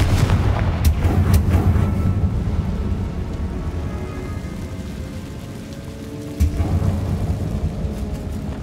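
A blasting spell explodes in the Hogwarts Legacy video game, a loud booming burst that rumbles and crackles, followed by a second heavy blast near the end.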